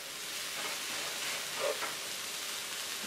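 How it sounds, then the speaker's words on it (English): Fried cabbage with bacon sizzling steadily in a pan as hot sauce is stirred in, a broad even hiss with one brief soft scrape partway through, close and fairly quiet. "I'm going to add the hot sauce now. Going to stir that in."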